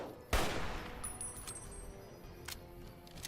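A semi-automatic sniper rifle fires in Fallout New Vegas, one sharp loud shot early on followed by a decaying echo and faint metallic clicks, with another softer burst later.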